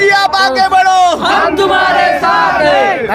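A close, loud crowd of BJP supporters at a Narendra Modi rally in Wardha shouts and cheers together, voices overlapping in a sustained excited roar.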